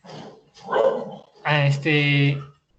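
A dog barks close by: two soft, breathy yaps followed by a louder, drawn-out, tonal bark or yelp that stops abruptly.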